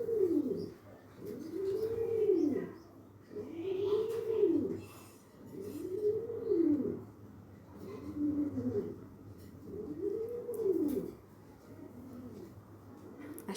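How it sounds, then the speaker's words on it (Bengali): A pigeon coos close by in a repeated rhythmic pattern, about six soft rounded phrases at steady intervals, alone over faint background noise. "পাশে কিন্তু কবুতর ডাকছে, বারবারই বলছে"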